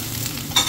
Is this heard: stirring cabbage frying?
yes